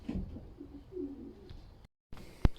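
Soft, low coos from young racing pigeons murmur close by in a loft, a few drawn-out calls followed by a brief silence and a sharp tap.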